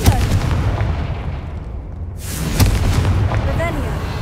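A Confringo fire spell is cast in the Hogwarts Legacy video game, giving booming explosive blasts with rumbling low-end bursts. A second sharp impact lands midway, and a voice speaks over the sound.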